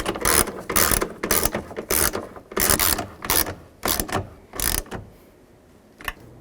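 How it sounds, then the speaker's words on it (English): A 10mm socket on a ratchet wrench snugging the nuts of a 2002-06 Chevy Avalanche side mirror, clicking in repeated close, loud ratcheting bursts that fade toward the end. "take a 10mm socket and snug these down"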